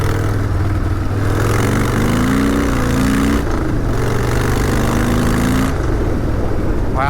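Harley-Davidson Sportster motorcycle engine droning steadily while riding on a smooth road at cruising speed, a continuous close rumble with slight rises in revs throughout.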